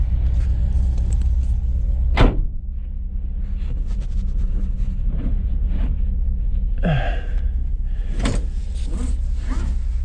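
A car engine runs just after a cold start with a steady, close, low rumble underneath. A brief whirring sweep and a few soft knocks and rustles rise over it.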